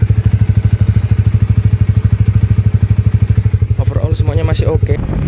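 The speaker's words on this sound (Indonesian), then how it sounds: "ini untuk suara mesin kita." A motorcycle engine runs up close at 2 a.m. by the Dwikora port in Pontianak, thumping in a fast, even pulse, with clattering noises and a brief burst of other sound near the end.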